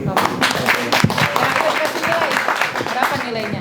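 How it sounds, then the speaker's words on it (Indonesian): Audience applause at a student leadership training session in Indonesia: a dense, steady wash of clapping from a room full of students holds for several seconds, with voices mixed in. "kasih tepuk tangan dulu"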